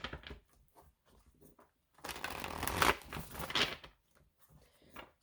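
Tarot cards are shuffled by hand, a close riffling flutter of about two seconds between softer handling taps and slides, quiet and alone.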